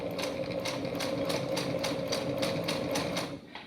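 A sewing machine stitches a back stitch into a fabric mask, close and fairly quiet, its needle tapping in a quick, even rhythm before it stops abruptly.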